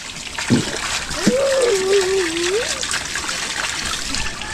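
A child splashes and plays with water, with wet splatters and trickling over a steady background, while a voice sings out a drawn-out wavering tone in the middle.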